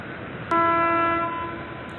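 A 05043 Ramnagar–Aishbagh summer special train pulls into Khairabad station, sounding a loud, steady horn blast partway through over a rumbling background of the approach.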